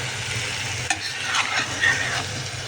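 Goat meat with onions, tomato and meat masala sizzles in a pan while being stirred, a close continuous frying hiss with a few utensil scrapes and no talking.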